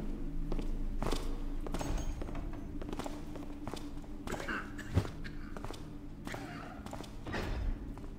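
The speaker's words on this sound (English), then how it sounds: "Maybe there's somebody above me that I'm hearing these footsteps for." Muffled footsteps in a Thief fan mission game, a run of soft, uneven thuds with a sharper knock midway, heard at moderate distance inside the game's quiet ambience.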